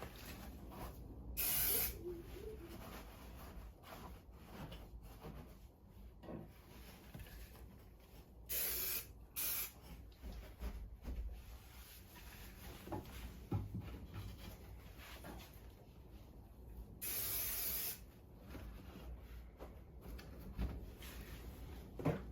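Spray foam insulation hisses in repeated bursts inside a Mercedes Sprinter van, with loud short blasts and longer sustained sprays separated by pauses and faint handling clatter.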